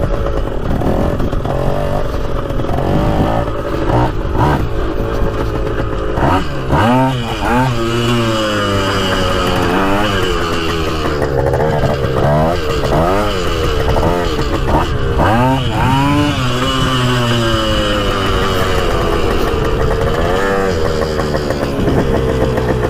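A Yamaha MX 175 dirt bike engine runs steadily and loudly close by, with two-stroke revving that rises and falls in repeated sweeps under some faint voices.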